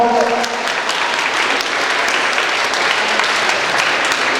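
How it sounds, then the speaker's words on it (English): A crowd gives loud, dense applause for hypnosis volunteers taking a bow at a hypnotist show, sustained and close, with a voice briefly audible at the start. "These applause are for you."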